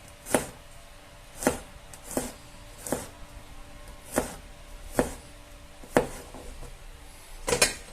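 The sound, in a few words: chopping garlic cloves on board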